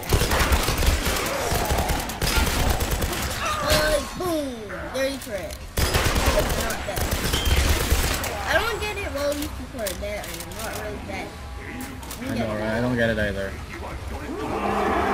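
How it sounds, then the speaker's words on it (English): Rifle fire in the action game Tomb Raider (2013) rattles in dense automatic bursts, loud and close, with a few short breaks, while someone talks excitedly over the shooting. "Man, the rifle shreds these guys apart, dude."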